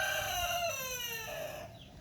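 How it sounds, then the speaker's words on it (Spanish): A rooster crows nearby, one long, loud, descending cock-a-doodle-doo that fades out at the end. "Acaba de cantar el gallo,"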